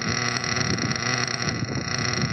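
An outboard boat motor idles steadily during break-in, a continuous low rumbling drone with constant loudness and no speech throughout.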